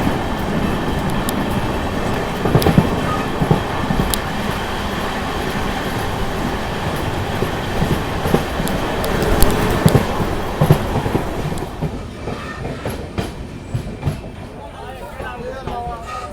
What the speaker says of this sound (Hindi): कामाख्या और आरा के बीच चलने वाली ट्रेन नंबर 13247 यानी कि कैपिटल एक्सप्रेस